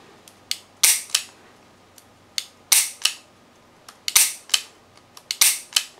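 Double-action trigger pulls on a Smith & Wesson Performance Center Model 19 Carry Comp revolver, a series of sharp, close mechanical clicks in uneven pairs and clusters, each snapping loud then fading quickly against a quiet room.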